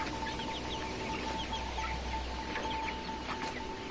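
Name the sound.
chickens clucking on a poultry farm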